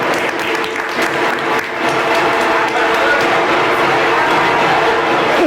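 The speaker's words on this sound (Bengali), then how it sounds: "একটা জোরে হাততালি।" Loud, sustained applause from an audience at a Durga Puja Panchami stage event fills the whole stretch, dense and even, with some crowd murmur and a voice or two under it.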